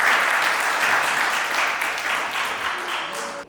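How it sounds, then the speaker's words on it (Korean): A seminar audience at a food truck business event claps loudly and continuously after a tax lecture, a dense, even roar of many hands that fades slightly at the end. "박수 부탁드리겠습니다."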